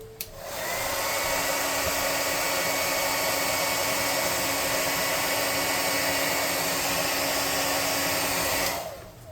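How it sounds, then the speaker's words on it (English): A hair dryer blows on a freshly painted Heroclix miniature, switching on with a click and running as a loud, steady whooshing drone for several seconds before cutting off, with no voices. "But first, let me air dry this dude off screen real quick."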